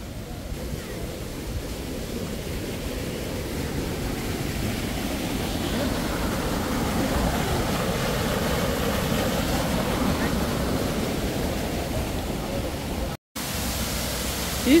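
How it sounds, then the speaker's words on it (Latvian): A waterfall at Plitvice Lakes, among moss-covered rocks, roars as a steady, dense rush of white water. It holds constant throughout and cuts out for a moment near the end. "Izrādās, ka šis pēdējais ūdenskritums laikam."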